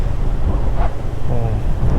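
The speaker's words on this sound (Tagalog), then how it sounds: "Lamig dito, lakas ng hangin." Strong wind blows near a waterfall at a dead-end spot on a trail, a loud continuous rumbling buffet across the microphone with faint voices underneath.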